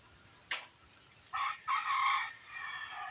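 A rooster on a rural farm crows once, a moderately loud call lasting about a second, preceded by a short squawk, against a quiet background.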